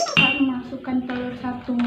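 A sharp glassy clink as an egg drops into a glass of water, followed by a ringing tone, with speech over it.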